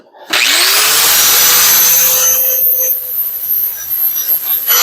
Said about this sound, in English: Grab the other grinder.